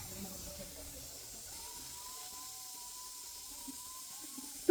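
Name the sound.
pressure cooker hissing on stove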